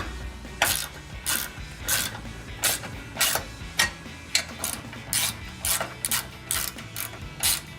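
A hand ratchet clicks in steady repeated strokes, tightening nuts and washers onto skid plate bolts under a 2019-2024 RAM 1500 front bumper, close and crisp with even rhythm throughout.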